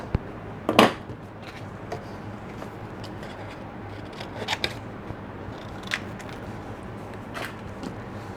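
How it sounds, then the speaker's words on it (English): Scissors fussy cutting around stamped paper images for a handmade card, heard as scattered soft snips and crisp clicks spread through the stretch, with one sharper snap near the start, close up and fairly quiet, no talking. "And then I just fussy cut these out."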